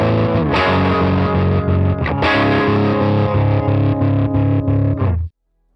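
Harmonic tremolo with its waveform width set to about 60% on a distorted, chorus-tinged tone, pulsing in a steady rhythmic throb for about five seconds before stopping abruptly.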